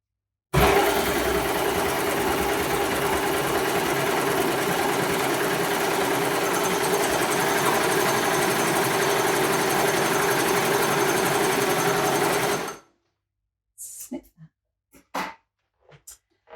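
A baby lock Desire3 combination machine runs a chain stitch and overlock seam on calico, a loud, steady mechanical whir for about twelve seconds before stopping abruptly, followed by a few soft clicks and handling noises.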